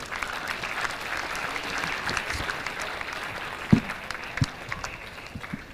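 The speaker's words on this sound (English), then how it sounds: "Can we put our hands together for those people?" A crowd at a senior public schools athletics carnival claps at a moderate distance, a steady patter of applause with a few sharper individual claps standing out near the end.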